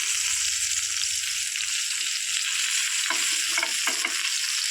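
Chapala fish pieces fry in a pan, a continuous close hiss of sizzling oil with a few scraping clatters as the pieces are turned over.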